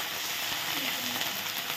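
Dried chillies, bay leaves and ginger fry in oil with a soft, steady sizzling hiss close by, lightly stirred, without clear talk over it.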